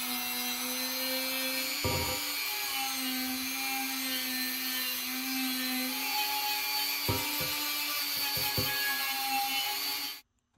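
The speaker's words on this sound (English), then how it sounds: "I'm going to take the abrasive wheel, my Dremel tool, and try to remove some of that" A Dremel rotary tool with an abrasive wheel grinds rust and oxidized chrome off metal, making a steady high whine with rough scraping bursts where the wheel bites. It runs close and continuous, then cuts off abruptly at the end.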